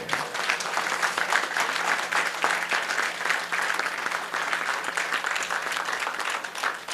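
A live audience at a spiritual discourse claps steadily for several seconds, a dense, even wash of many hands with no voices over it.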